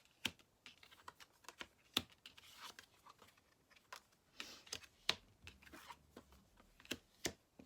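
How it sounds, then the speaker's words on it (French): Tarot cards being shuffled by hand, a quick series of sharp crisp riffles and snaps at an irregular pace, fairly faint and close, with no talking. "je bats les cartes"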